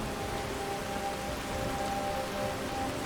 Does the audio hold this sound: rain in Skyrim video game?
yes